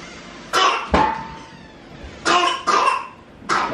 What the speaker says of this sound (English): You coughing up a lung?